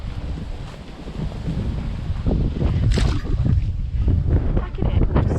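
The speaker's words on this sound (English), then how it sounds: "The wind starts blowing in a second, and because we're under a tree, he just freaks out a little bit" Gusty wind blows through a tree over a rider on horseback on a UK road, a rough, continuous rushing and buffeting on the microphone that rises partway through.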